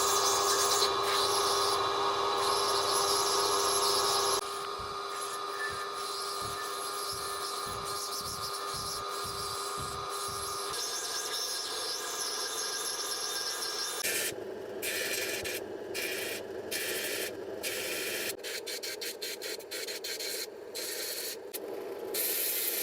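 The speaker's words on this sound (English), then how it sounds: "So I will go back to the grinder now and just start to reshape this." A lapidary grinder reshapes an opal stone on a wheel, giving a continuous hissing, rasping whir with shifting tone, brief rhythmic pulses partway through and choppy scraping toward the end.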